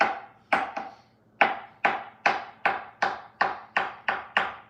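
Knife cutting a few slices of avocado on a board, about a dozen sharp, close taps in an irregular then steady rhythm with brief decays between them and no voices.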